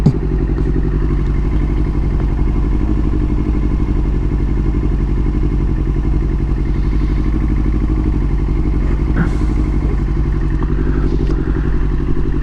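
A 2000 Yamaha R6 motorcycle fitted with a Healtech quickshifter rides steadily, its engine droning loudly and continuously with a constant buzzing rumble and slight clatter throughout.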